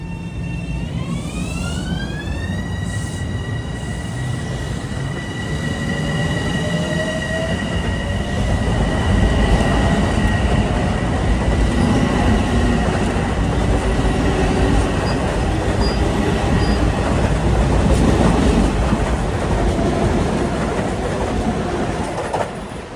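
An LIRR commuter train rolls past Queens Village station with a loud continuous rumble and wheel clatter, a rising then steady horn-like whine early on, and squealing wheels heard nearby for the whole stretch.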